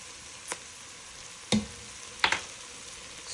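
Garlic sizzles faintly in a hot pan for chili, a soft steady frying hiss broken by three sharp scraping clicks of stirring, close and quiet, with no talking.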